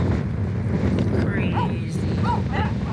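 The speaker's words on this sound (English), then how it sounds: "It's pretty windy." Strong outdoor wind buffets the microphone in a steady, loud roar throughout, with a few faint bird chirps above it and no clear speech.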